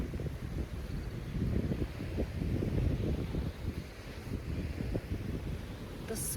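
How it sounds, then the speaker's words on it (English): Ocean surf rolls in and out on a Mexican beach at sunrise, a low rumbling wash that swells and eases, roughened by wind buffeting the microphone. "the sound of the ocean as the waves come in and out"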